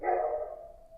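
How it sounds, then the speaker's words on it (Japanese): A single dog bark rings out at night, moderately loud and slightly drawn out as it fades, with a quiet background. "軒を守る犬の声も"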